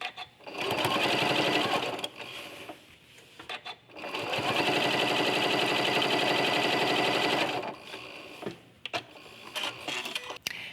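A sewing machine stitches binding onto a quilt in two steady runs of rapid mechanical whirring, each a few seconds long, broken by brief pauses and soft handling sounds, loud and close.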